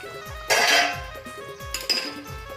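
A metal lid is set onto a cooking pot of rani fish curry with raw karvanda, giving two distinct clanking contacts about a second apart, close and fairly loud, with light ringing.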